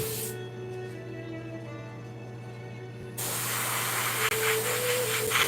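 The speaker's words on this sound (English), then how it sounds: "Okay, now we're gonna take our airbrush again." Airbrush spraying paint onto a model Sherman tank, a steady close hiss that gets suddenly louder partway through and then holds, with a faint hum underneath.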